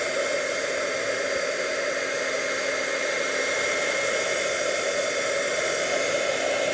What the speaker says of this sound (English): the other thing I like to do is heat set this to dry the colors